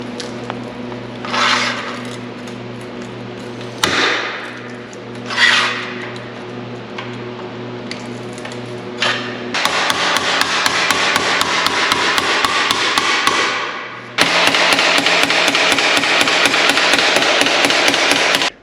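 A hammer repeatedly strikes steel sheet being bent into a 1930 truck bed: loud, close, sharp metallic blows, first spaced out, then a fast steady run of evenly timed strikes.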